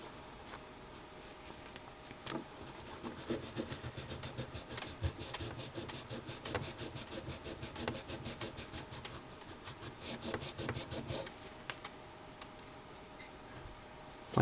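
A cloth rubs crayon wax off a Glock pistol in a steady run of close, dry scrubbing strokes that start after a couple of seconds, with no talking.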